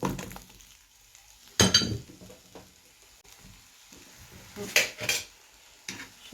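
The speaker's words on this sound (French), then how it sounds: "j'ai découpé mes oignons que je vais venir caraméliser avec du beurre dans une toile" Sliced onions go into a pan with butter to caramelize for a gratin dauphinois meal, bringing scattered clinks and clatter of utensil against pan, a couple of sharper knocks and a faint low sizzle between them.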